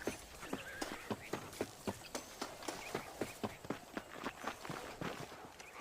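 Horse hooves clip-clop at a steady canter on dirt in the Western video game Red Dead Redemption, evenly spaced hoofbeats close and fairly loud over a faint ambient bed, with no talking.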